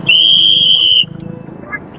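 A sharp, shrill single blast from a pilgrims' organizer's whistle at a Wari palkhi gathering, lasting about a second, followed by a short chirp amid crowd murmur and outdoor bustle.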